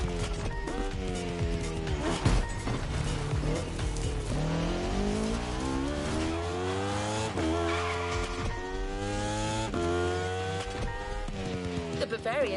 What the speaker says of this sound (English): We have prepared a classic for you from a very famous German brand, the BMW Z4 M40i.